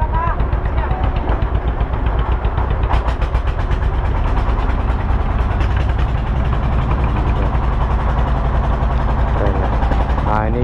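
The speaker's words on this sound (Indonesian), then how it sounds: "ini mesinnya udah hidup nih, udah mau jalan sih" A klotok wooden boat engine runs steadily with a mechanical, ratcheting clatter, loud and close throughout, on a river crossing from Balikpapan to Penajam.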